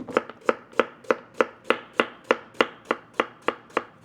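A knife chops radish on a cutting board in a steady series of about fourteen crisp, evenly spaced strikes, close and clear with no talking.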